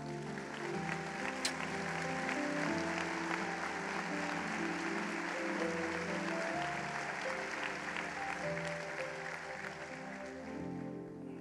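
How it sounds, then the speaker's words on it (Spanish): A church congregation applauds steadily for about ten seconds, a dense, sustained clatter of clapping hands that fades slightly at the end, with faint music beneath. "Den un aplauso a estos viejos hermosos."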